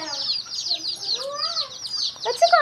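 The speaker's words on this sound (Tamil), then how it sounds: "கலர் கோழி." Chickens cluck and chatter in overlapping bursts nearby, with a few louder squawks toward the end.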